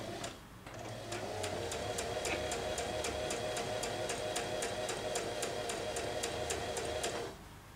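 A sewing machine stitches along a chiffon V-neckline in one steady run of rapid, evenly spaced needle strokes, close and loud, starting and stopping cleanly with no talk over it.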